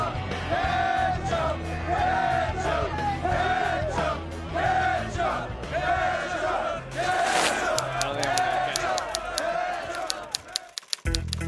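Stadium crowd at a Buffalo Bills home game roaring and chanting in loud, pulsing waves of massed voices. A sharper burst of yelling comes near the end before the noise cuts off.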